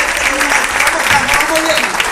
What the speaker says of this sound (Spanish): De ese aplauso fuerte al Señor.